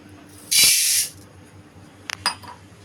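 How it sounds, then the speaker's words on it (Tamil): Urad dal poured into a hot, dry kadai gives a half-second burst of bright hiss and rattle. A few faint clicks follow, and the setting is quiet with no speech. "கடாய் நல்லா சூடான உடனே உளுத்தம்பருப்பு ஒரு டம்ளர் போட்டுக்கலாம்"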